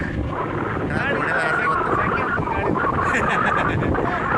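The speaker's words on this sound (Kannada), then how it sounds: "ಗಾಳಿ ಜೋರಿತ್ತಲ್ಲ" Strong sea wind roars steadily across the microphone aboard a fishing boat, a loud continuous rush with faint muffled voices somewhere beneath it.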